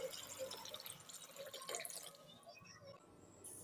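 Water runs from a tap or is poured into a bowl of washed dried peas, a steady splashing trickle filling the container up close, with no voices.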